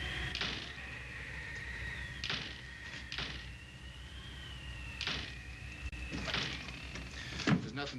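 A door rattling and knocking in gusty wind inside a house, several sharp clatters spread unevenly over a steady whistling hum of wind.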